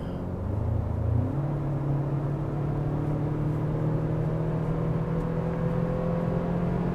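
A 2025 Toyota 4Runner TRD Pro's turbocharged four-cylinder engine revs steadily from cabin, droning low and rising slightly in pitch over several seconds as it accelerates, with no talk.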